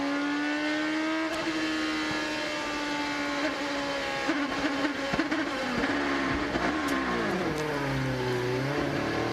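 An IndyCar engine at the 2005 Indianapolis 500 roars loudly and steadily, its pitch climbing as it accelerates hard, with no voices.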